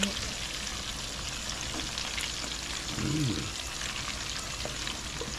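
Tulingan fish frying in very hot oil gives a dense, steady close sizzle and crackle throughout, with a brief murmur of a voice partway through.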